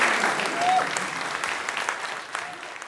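A studio audience claps steadily, with a dense wash of applause that fades slightly toward the end and has faint voices mixed in.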